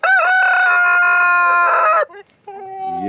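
A rooster named Hulk crows once, loud and close, in a long strained call that breaks off sharply, followed by a softer clucking tail.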